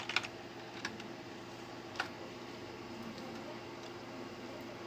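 A command being typed on a computer keyboard, a few quiet, sparse key taps over a steady hum of room noise, no voice.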